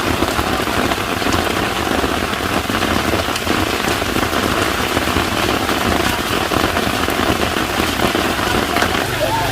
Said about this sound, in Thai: พอดีว่าฝนตกด้วยนะคะ